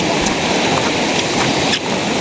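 Steady heavy rain pours at a beach, a dense continuous hiss with a faint low rumble underneath, loud and close with no voices.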